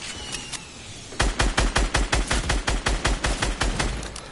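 Fortnite gunfire: a faint shot or two, then a rapid, loud burst of automatic fire with evenly spaced cracks that runs to the end without talk.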